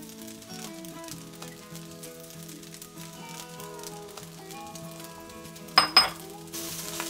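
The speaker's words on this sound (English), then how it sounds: "looks like my fried rice is getting pretty crispy" Leftover fried rice crisping in a pan gives a steady, soft sizzle throughout, with a couple of sharp metallic clinks of utensil against pan near the end and a brighter hiss just after.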